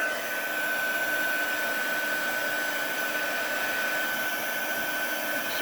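Heat tool blowing hot air over a paper card during crafting, a steady close whooshing fan roar with a thin constant whine, unbroken and even for the whole stretch with no talk.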